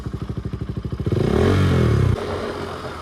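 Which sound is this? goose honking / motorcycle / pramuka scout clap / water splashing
motorcycle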